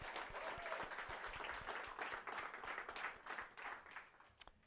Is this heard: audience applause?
yes